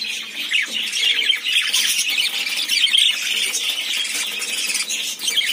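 Young Australian budgerigars squawk and chatter continuously in a dense, busy chorus of shrill overlapping calls, close and fairly loud throughout, with no voices present.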